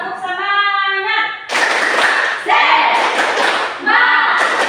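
A group of schoolchildren in a classroom clap together in a rhythmic cheer pattern, loud bursts of clapping in several phrases close to the microphone, with voices mixed in.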